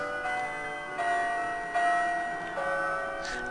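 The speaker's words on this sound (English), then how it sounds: "I love how the clock chimes LeChuck's theme." In-game clock in The Curse of Monkey Island chiming LeChuck's theme, a slow sequence of resonant bell-like tones ringing over a steady background, each note sustaining into the next.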